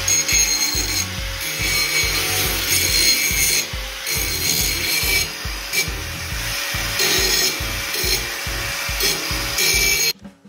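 Metal part of a homemade bike rack being ground down with a power tool, a harsh rhythmic rasping that pulses in short repeated strokes for about ten seconds, close and loud, then cuts off abruptly at the end.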